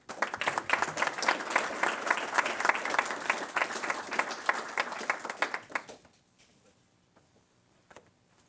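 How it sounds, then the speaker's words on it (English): An audience at a Los Angeles fire commission ceremony breaks into dense, steady applause for about six seconds before it stops abruptly, leaving near silence with a few faint sounds. "One last round of applause."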